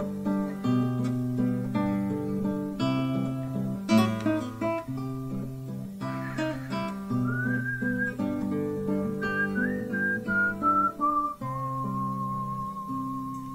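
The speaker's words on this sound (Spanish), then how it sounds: "Silbando se llama." A person whistles a clear, lilting melody in a rural folk style, accompanied by strummed guitar chords throughout, the whistled line sliding and holding long notes near and prominent.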